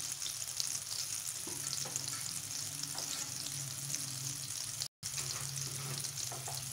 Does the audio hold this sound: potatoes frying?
yes